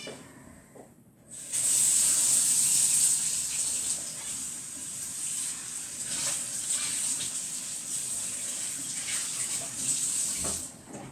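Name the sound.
water running from tap, rinsing moulds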